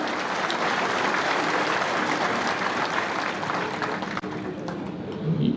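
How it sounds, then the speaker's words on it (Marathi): An audience at a political party event applauds loudly and continuously, a dense wash of clapping that fades out near the end. "आपण सर्वांनी टाळ्या वाजवून पहिल्यांदा पवार साहेबांचं या ठिकाणी स्वागत करावं"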